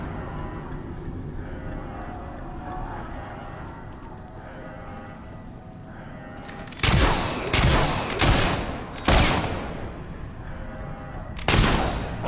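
Gunfire in Fable 3, several sharp loud shots in quick succession and then one more a moment later, following a stretch of ambient game noise.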